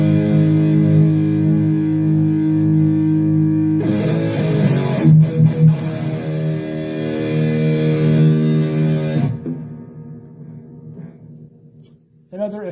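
Distorted electric guitar played through a Donner Arena2000 multi-effects pedal with an intelligent noise gate, sustained heavy chords that cut off cleanly into near silence once the playing stops, loud and close with no talking.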